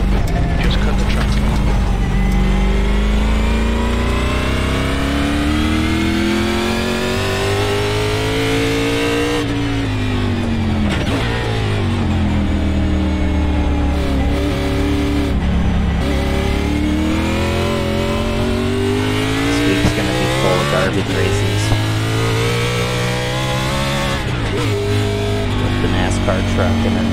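NASCAR Xfinity race car in the iRacing sim on the Daytona International Road Course, engine droning loud and steady with repeated rising revs and downshifts as it laps, continuous for the whole stretch.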